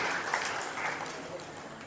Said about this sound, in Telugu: చప్పట్లు కొడదాం ఒకసారి.